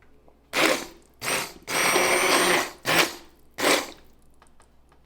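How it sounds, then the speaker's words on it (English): An electric hand mixer whisks an herb mixture with fresh basil and parsley in four loud whirring bursts separated by short pauses, each burst steady and close. "I have a hand mixer which will do an equally good job"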